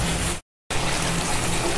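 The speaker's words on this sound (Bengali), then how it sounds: "বলক চলে আসছে, এখন আমি মাছগুলি দিয়ে দিব।" Rohu fish pieces go into a boiling Bangladeshi rohu bhuna curry, making a steady close bubbling hiss that cuts out briefly and then resumes at the same level.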